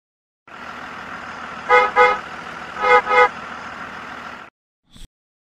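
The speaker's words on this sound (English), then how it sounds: "Bus." A bus idles with a steady engine rumble and hiss, broken by two pairs of loud horn honks, each a quick double blast, followed by a brief faint click near the end.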